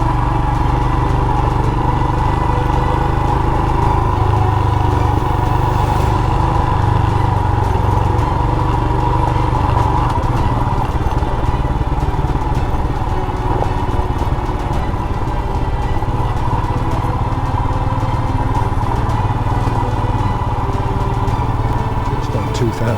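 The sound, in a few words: Royal Enfield Himalayan motorcycle engine pulling in second gear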